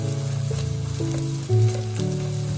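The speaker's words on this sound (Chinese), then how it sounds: "然后快速的给它翻炒，翻炒均匀" Scrambled egg pieces stir-fried in a hot wok for a luffa and egg dish, with a steady close sizzle and a few scraping spatula strokes, no voices.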